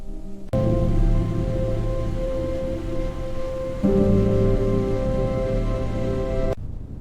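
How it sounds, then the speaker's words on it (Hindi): Steady rain hisses without pause over a quiet road, mixed with a low droning hum that shifts slightly midway, then cuts off abruptly near the end. "बारिश लगातार हो रही थी।"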